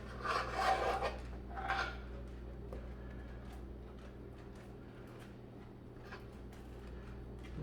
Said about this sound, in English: Scrape all this out that you can.